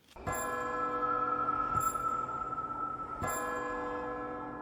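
Church-style bells chime in a video game's main menu theme, two or three loud struck peals with long ringing overtones layered over a sustained musical bed, no voices.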